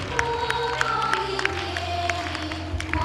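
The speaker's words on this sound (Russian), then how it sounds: "Давайте поприветствуем аплодисментами" An audience at a dance festival claps and cheers loudly, a dense continuous wash of applause with scattered shouts and a low hum of sound underneath.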